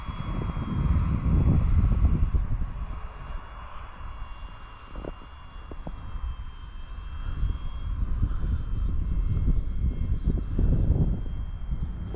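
A model airplane engine drones steadily at a high, buzzing pitch, rising and falling slightly as it flies in falling snow, with wind rumble on the microphone.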